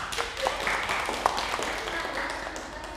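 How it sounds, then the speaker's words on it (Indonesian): A small classroom group claps during a microteaching session, fairly faint, uneven clapping with a few sharper individual claps and some voices murmuring underneath. "Tepuk tangan untuk kalian semua."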